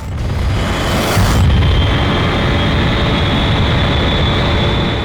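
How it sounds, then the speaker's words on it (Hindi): A missile launch sound effect from a CID horror TV episode: a loud rushing roar with a sharp surge just after one second, then a sustained rumbling whoosh trailing off, no voices. "डॉक्टर साहब, अभी एक मिसाइल यहाँ से फायर किया गया है"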